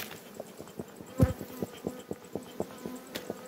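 Honey bees from a split colony buzz at a hive during a beekeeping inspection, making a close, pulsing drone of wingbeats with brief rises as individual bees fly past, plus light clicks and knocks.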